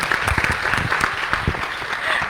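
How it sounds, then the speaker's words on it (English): Students at a talk on the space economy clap as a crowd, a lively, fairly loud patter of many hands with some sharper individual claps standing out, and faint voices mixed in. "So all the students, I'd like to hear the clap from you."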